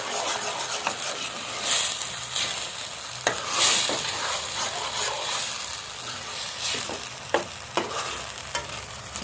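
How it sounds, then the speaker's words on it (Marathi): Prawn masala being stirred in a cooking pot, giving a soft sizzling fry with scraping strokes of a spoon recurring every second or two, close and moderately quiet. "ढवळत राहा"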